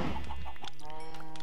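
Chicken clucking in the block-building video game Minecraft, a short run of quick clucks followed by a higher tonal cluck, over a steady background hum.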